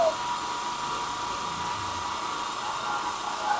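A running pelletizer machine gives off a steady, high mechanical whine with a constant hum underneath, loud and close, with no speech over it.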